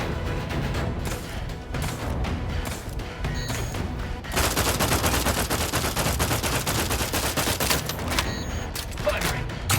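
Dense gunfire from a firefight in the video game The Outer Worlds 2, rapid overlapping shots and bursts forming a continuous loud barrage that intensifies midway, with no clear speech over it.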